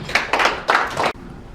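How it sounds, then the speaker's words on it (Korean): An audience at a gathering of overseas Korean media outlets applauds to welcome a speaker. The clapping is loud, close and lively, comes in uneven bursts for about a second, then stops abruptly into quiet room tone. "큰 박수로 환영드립니다."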